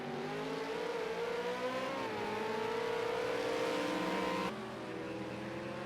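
V8 Supercar race cars roar at Bathurst Mount Panorama, with a loud sustained engine note rising in pitch as they accelerate and then dropping off sharply, with no talk.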